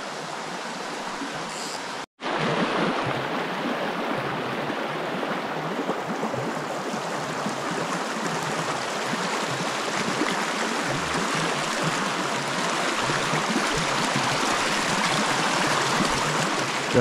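A small, crystal-clear stream flows steadily and close by, a continuous broadband rush with no talk, after a brief dropout near the start.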